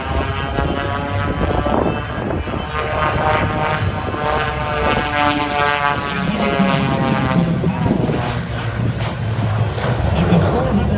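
A jet aircraft powered by a CJ610 turbojet of about 3,000 pounds thrust flies past at the 2022 Blue Angels Homecoming Air Show, a loud, steady roar with a shifting whine that fills the whole stretch.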